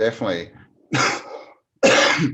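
Short bursts of coughing and throat clearing, separated by brief pauses, close and fairly loud.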